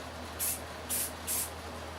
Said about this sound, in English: Spray a couple spots